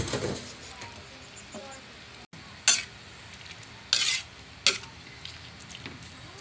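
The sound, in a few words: stirring bihon noodles in a frying pan for pancit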